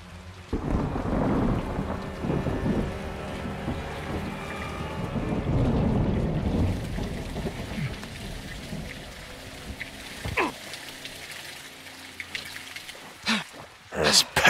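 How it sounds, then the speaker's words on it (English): Heavy rain pours steadily with deep rolls of thunder in a Call of Duty Modern Warfare 2022 stealth mission, loud and continuous, with sharper cracks and bursts near the end and voices speaking over it. "It's raining fucking hard"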